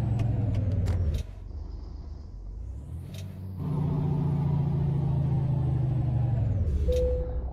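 Road traffic in American Truck Simulator, a continuous loud engine rumble with passing vehicles that briefly drops then swells again, joined by short hissing bursts like air brakes and a final tonal horn-like note.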